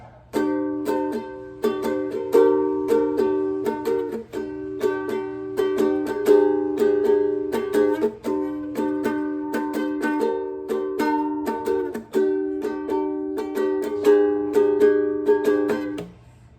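Ukulele strummed in a steady, repeating pattern of bright chords, played alone and close up for the whole stretch.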